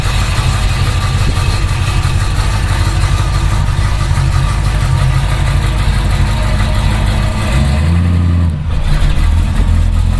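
An old car left in a garage for 15 years runs after being revived. The engine roars loudly and continuously close by, and a deep, throbbing idle swells briefly near the end.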